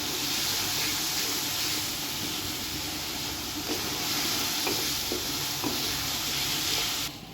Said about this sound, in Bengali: ভালো করে কষাতে হবে একটু ব্রাউন কালার আনতে হবে